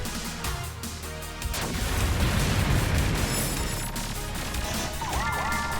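Video game cannons fire sideways in rapid succession, a dense barrage of crashing blasts and booms that swells and keeps going, loud and busy with small electronic chirps near the end.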